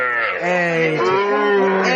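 A Sahiwal calf lets out one long, drawn-out moo close by at a cattle market, its pitch wavering slightly as it holds the call.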